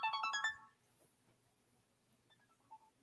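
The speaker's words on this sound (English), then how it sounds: "I have a phone call." A short electronic phone ringtone for an incoming call, a quick bright melodic burst of about half a second, followed by quiet with faint sounds.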